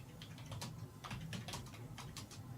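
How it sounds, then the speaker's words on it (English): Aggressive, fast typing on a computer keyboard, with dense irregular bursts of clacking keystrokes running steadily over a low background hum, close and fairly quiet. "The aggressive typing."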